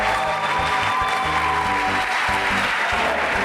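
Audience applause for Caleb University's team at a SMART Challenge event, continuous clapping with a low, thumping rhythmic background underneath, fairly loud and steady throughout.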